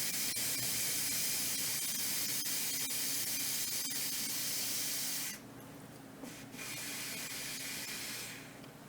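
An Instant Pot venting pressure with a loud, steady steam hiss that runs unbroken for about five seconds, then drops off sharply, returns briefly, and tapers away near the end.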